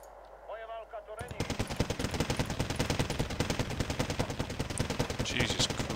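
Units in the Cold War strategy game Wargame: Red Dragon open sustained automatic fire, a dense rapid rattle that starts abruptly after a short spoken phrase and keeps hammering at close range.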